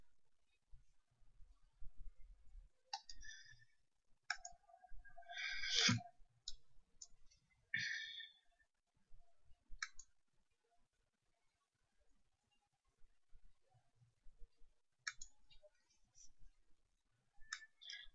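Computer mouse clicks during database work in SQL Server, a handful of sharp, isolated ticks spread sparsely over quiet room tone.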